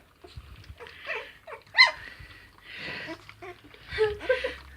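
Sprocker spaniel puppies whimper and squeak in short, high, uneven bursts close by, with a louder yelp partway through and soft rustling underneath.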